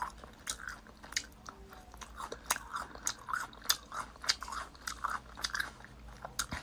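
Someone eats premium ribeye beef up close, with repeated wet chewing and biting sounds in an irregular rhythm and sharp crunchy clicks between them, with no speech over it.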